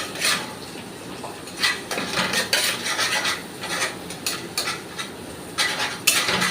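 Spatula scraping and stirring ground cumin, coriander, chilli and turmeric with egg in a pan for an egg bhujia, making a rhythmic series of close, raspy scrapes and light metallic clinks.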